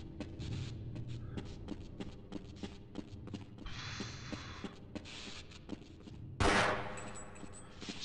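Rapid gunshots fired at explosive charges in the video game Half-Life: Blue Shift, a string of sharp cracks over a steady low hum, ending in one louder blast.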